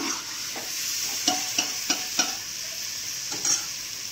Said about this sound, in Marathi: चांगलं फ्राय करून घ्यायचंय.